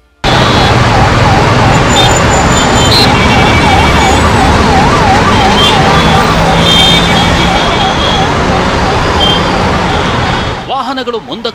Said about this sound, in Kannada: ಸ್ಕೈ ವಾಕ್ ಬಳಿ ಸಿಲುಕಿದ ಆಂಬ್ಯುಲೆನ್ಸ್,